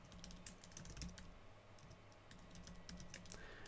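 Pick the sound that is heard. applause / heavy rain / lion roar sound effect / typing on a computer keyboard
typing on a computer keyboard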